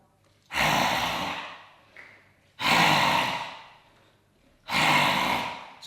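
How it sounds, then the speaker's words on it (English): Three loud, forceful breathy exhales with the tongue out, made as grunt-like 'dragon's breath' bursts in a somatic voice exercise, each about a second long and spaced by short quiet inhales. "we're going to stick the tongue out and we're going to make a grunt-like sound"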